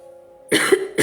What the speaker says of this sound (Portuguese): Ai, tossindo.